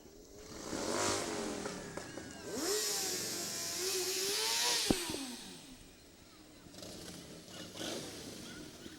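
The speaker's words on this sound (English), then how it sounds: "And of course, they have their motorcycles coming down here." Motorcycles ride past in a 2009 West Norriton Day parade in Pennsylvania, engines swelling and fading as they pass at moderate distance amid crowd noise, with a sharp click near the middle.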